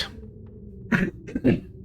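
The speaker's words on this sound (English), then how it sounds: "Might have to clear my throat a few times today." Someone in a snowy wilderness survival game clears their throat twice in quick succession, close and moderately loud, each rasping burst short and harsh against a quiet low background hum.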